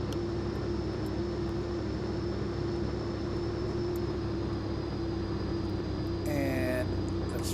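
Steady aircraft engine drone from a plane taxiing on the ground in X-Plane 11, a constant hum with a tonal whine, and a brief rising electronic tone near the end.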